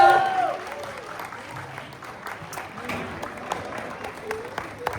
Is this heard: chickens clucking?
no